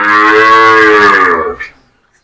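A cow at a dairy farm in Shahjadpur, Sirajganj lets out one long, loud, close moo that holds steady and then drops away into silence.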